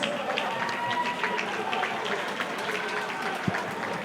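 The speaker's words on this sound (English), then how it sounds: "Ladies and gentlemen, a round of applause for both these fighters." A crowd at an MMA fight night applauds both fighters with steady, dense clapping and cheering, with a voice mixed into the noise and a sharp thump near the end.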